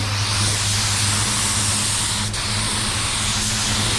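A steady, loud hiss of a spray gun spraying water-based paint runs continuously throughout, close by, with a low mechanical hum underneath and no pauses.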